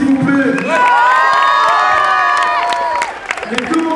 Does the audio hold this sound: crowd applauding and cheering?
yes